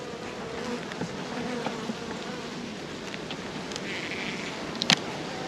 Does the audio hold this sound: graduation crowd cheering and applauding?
no